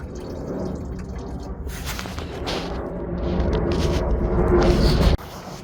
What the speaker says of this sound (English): while the coolant finishes draining